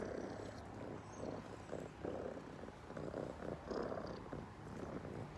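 Cat purring steadily and closely while trying to nurse on a shirt, a soft rhythmic rumble that is quiet overall.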